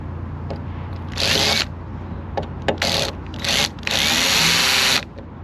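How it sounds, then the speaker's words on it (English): A power drill drilling out a rivet on a broken latch whines in several short bursts, the last one longer, separated by brief pauses with light clicking. "So I'm going to try and drill this out"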